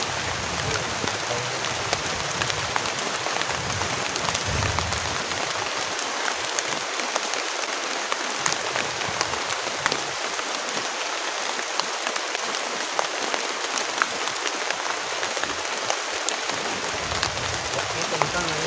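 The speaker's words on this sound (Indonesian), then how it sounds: "karena hujannya deras banget teman-teman" Heavy rain pounding a camping shelter during a storm, a dense, continuous wash of drumming drops, loud and close, with voices talking beneath it.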